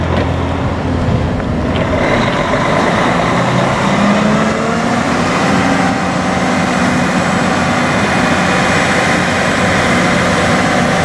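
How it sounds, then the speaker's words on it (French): An airport fire truck's water cannon swings into position, with a loud, steady engine and turbine-like roar and a low mechanical hum that carries on continuously throughout, without any talking. "Donc là vous voyez la lance-canon se met en position."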